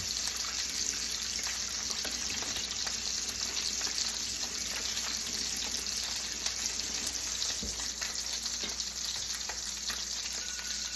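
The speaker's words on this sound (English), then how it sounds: "I will rinse off my cutting board" In a kitchen where brined steaks are cooking, a cutting board is rinsed under a running tap, giving a steady, even hiss of flowing water that continues throughout, with no voices.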